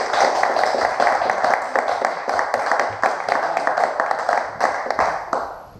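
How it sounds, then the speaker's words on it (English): An audience at a work gathering applauds team members, a dense, steady round of many hands clapping close and loud for several seconds before tapering off, with no talking over it. "a big round of applause for the people who are representing us on Saturday"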